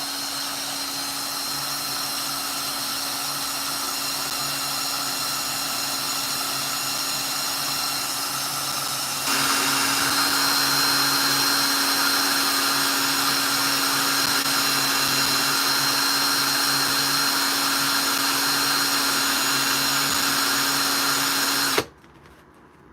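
A spinning power tool smooths the reeded edge off a coin ring, giving a steady, loud, close whine that steps up in pitch and loudness partway through, then cuts off near the end.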